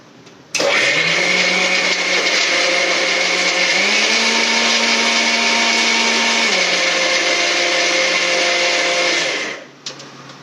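A mixer grinder blending chilies with liquid runs loud and steady for about nine seconds, its motor pitch rising partway through before it cuts off sharply.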